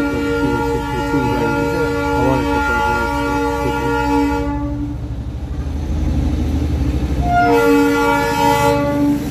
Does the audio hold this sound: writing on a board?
no